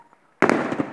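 Golden rain fireworks at a display in Bologna burst with a sudden sharp crack after a quiet moment, followed by a dense crackling, popping shower that lingers loudly.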